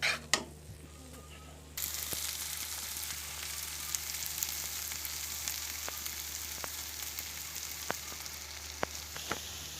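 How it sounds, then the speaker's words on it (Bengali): Steady, close sizzling of noodles frying with shrimp in a pan, starting quietly and jumping to a loud hiss, with occasional sharp clicks of stirring throughout. "ভাজা ভাজা করব, তারপর ডিম দিব।"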